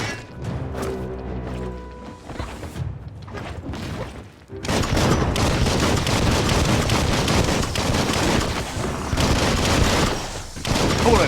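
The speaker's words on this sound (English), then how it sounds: "Bullets everywhere." Heavy gunfire in the video game Biomutant, played on Xbox Series S: after a few scattered shots and impacts, a dense, loud, continuous barrage of bullets and crashes fills the rest of the scene.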